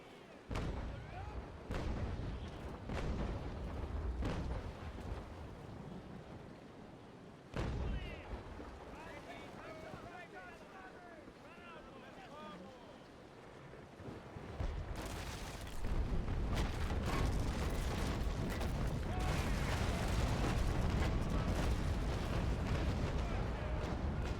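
Ship cannons booming in the age-of-sail naval game Naval Action, aboard the Rotterdam, with repeated loud blasts and heavy rumbling, the firing growing denser and more sustained toward the end.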